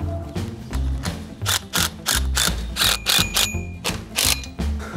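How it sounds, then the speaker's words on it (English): Hinge hardware on a double drive chain link gate is ratcheted tight, a loud, close series of rhythmic metallic clicks and clanks in short bursts with brief pauses, no talking. "we can go ahead and tighten our hardware down."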